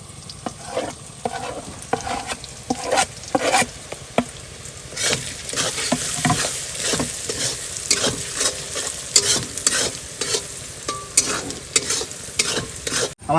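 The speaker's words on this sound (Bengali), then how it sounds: "সমস্ত মশলা সুন্দর করে ফ্রাই করে নিয়েছি" Ground spices with salt, pepper, turmeric, chilli, coriander and cumin powder fry and sizzle in a pan for a meat curry, with steady crackling and repeated stirring scrapes throughout, close and fairly loud with no talk.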